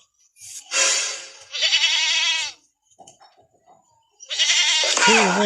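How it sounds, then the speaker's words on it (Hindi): A goat bleats on a farm: several loud, drawn-out, wavering calls close by, with short pauses between them and a brief low voice or shuffle in the middle gap. "बकरी बोल रही है।"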